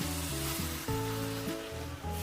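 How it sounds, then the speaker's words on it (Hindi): Pumpkin halwa is stirred in a pan to keep it from sticking, giving a soft continuous sizzle and scraping beneath louder background music. "अच्छे से इसको मिक्स करते जाएंगे, इसे नीचे चिपकने नहीं देना है हमने।"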